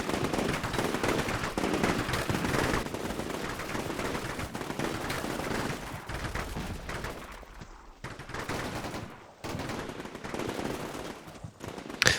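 Sustained machine gun fire in the Combat Mission Shock Force 2 war game, set in an urban battle against Syrian forces: dense, rapid bursts of automatic gunfire rattle almost continuously, dropping out briefly before resuming.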